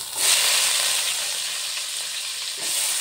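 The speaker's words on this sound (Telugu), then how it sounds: "కాకరకాయ ఫ్రై చేస్తున్నాను" Bitter gourd deep-frying in hot oil gives a loud, steady, close sizzle that runs the whole time, with no voices.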